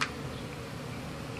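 Honey bees buzzing during a hive removal from a mobile home, a dense steady low drone of many insects close by with no talk.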